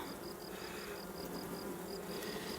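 Honeybees buzz steadily inside a nucleus hive whose capped queen cells are being inspected, a continuous close, low drone with a thin high whine, unbroken for the whole stretch.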